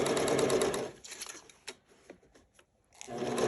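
A sewing machine stitches around the band of a six-panel welding cap, sewing in a circle in two loud bursts with a quiet pause between them when a few single stitches are made.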